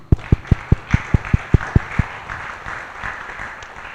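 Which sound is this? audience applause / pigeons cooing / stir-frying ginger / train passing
audience applause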